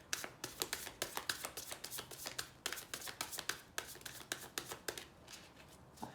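A rapid series of crisp, papery riffling bursts, close and steady, as tarot cards are shuffled by hand over several seconds.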